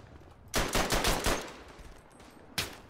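Madsen machine gun fire in the Verdun first-world-war shooter: a rapid burst of loud, close shots lasting about a second, then a lone sharp shot shortly after, with no talking.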